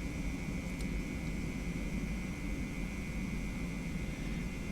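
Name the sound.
Boeing 717 engines at takeoff thrust, flight simulator video game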